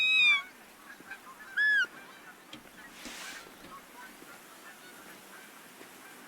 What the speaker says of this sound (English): We got geese flying overhead.